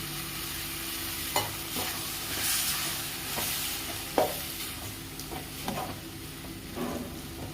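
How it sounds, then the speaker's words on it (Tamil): Mint and coriander leaves sautéing in a pan for pudina chutney, a continuous soft sizzle and hiss broken by occasional stirring scrapes and clinks, close and alone without talk. "நல்லா வதக்கி விடுங்க"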